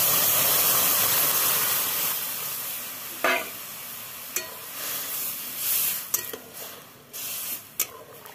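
Dal poured into hot oil with fried spices gives a loud burst of sizzling that gradually dies down, followed by a few clinks and scrapes of stirring against the pot.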